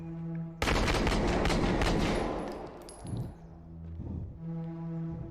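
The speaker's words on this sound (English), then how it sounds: "Shots fired! Shots fired!" Gunfire in the realistic first-person shooter game Unrecord, a sudden loud burst of rapid shots erupting at once and sustained for several seconds before tapering off, with a steady background hum throughout.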